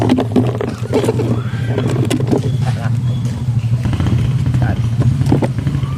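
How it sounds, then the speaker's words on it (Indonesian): A motorcycle engine rumbles steadily at close range, a low drone that persists throughout while people talk over it. "Asup tuh, eta teh suara motor."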